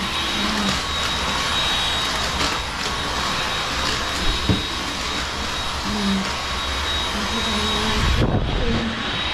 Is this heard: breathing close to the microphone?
no